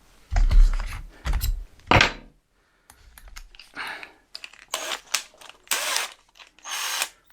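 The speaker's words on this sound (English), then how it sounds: "I'm going to pre-screw these in ready" A power drill drives square-drive screws with short whirring bursts, interspersed with clicks and handling knocks, in a close, intermittent rhythm with brief pauses.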